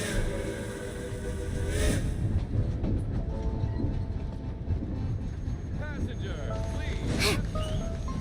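A train rolls steadily along rails in a video game set in a wintry land, a continuous rumbling clatter with voices and game sounds over it.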